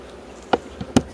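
Bees around a hive, with a couple of short buzzing passes flitting close by over a faint background hum, each lasting only a fraction of a second.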